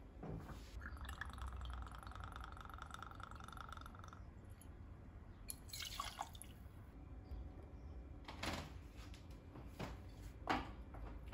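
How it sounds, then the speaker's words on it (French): Tequila poured from a bottle into a measure for a margarita, a faint trickle near the start followed by a few light clinks and drips in a quiet room. "On vient ajouter 4 centilitres de tequila."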